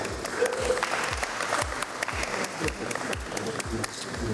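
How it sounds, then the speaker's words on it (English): Continuous clapping from a crowd at a speed-dating event, steady and fairly loud, with scattered voices mixed in throughout. "Round of applause for him, please."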